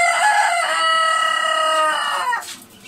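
A rooster crows once from a cage, loud and close, a long harmonic call that trails off near the end.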